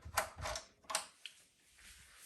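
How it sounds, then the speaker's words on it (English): Screws on the back panel of a water-cooled O11D XL PC case are loosened with a few close, quiet scraping and ratcheting clicks that fade to near silence. "so you'll first loosen these two screws"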